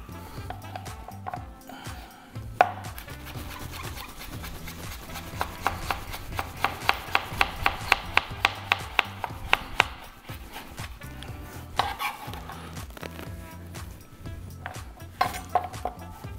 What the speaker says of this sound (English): I'm just going to cut some nice little julienne pieces here.